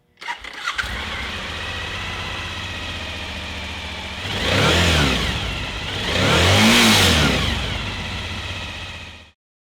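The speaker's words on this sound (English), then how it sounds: "Let's run the bike." A motorcycle engine run during winter storage preparation cranks and starts, then idles steadily at close range, swelling twice with revs before cutting off abruptly; no speech.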